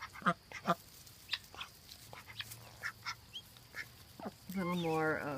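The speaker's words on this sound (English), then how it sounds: "That quiet raspy noise is what a drake, a boy duck, does." Quiet, raspy calls of a Pekin drake repeat irregularly in short bursts, followed near the end by a louder harmonic quacking call, with faint background noise.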